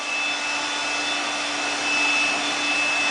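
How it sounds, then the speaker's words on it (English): A vacuum cleaner runs continuously to dust an air purifier, giving a loud, steady motor drone with a high, thin whine. No one speaks. "you can take your vacuum, turn it on, and just dust it."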